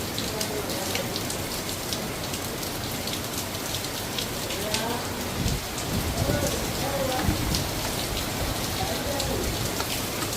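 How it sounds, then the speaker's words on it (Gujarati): Steady rain falls during a three-day spell of wet weather, a dense, even hiss of drops on surfaces with faint rumbles, continuous throughout and fairly close. "આજનું મોસમ તમે જોયું કે વરસાદ છે છેલ્લા ત્રણ દિવસથી વરસાદ તો પડે જ છે"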